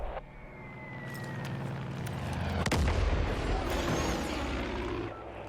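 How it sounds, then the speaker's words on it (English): A bomb detonates in the video game Far Cry 5, a loud low rumbling blast that swells and rolls on for several seconds, with a sharp crack partway through and no talking. "I dropped the bomb."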